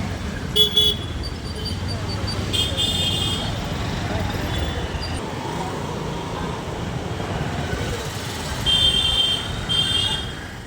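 Busy city road traffic heard from inside a car: steady engine and road rumble, with several short car horn toots near the start and again toward the end, while people talk over it.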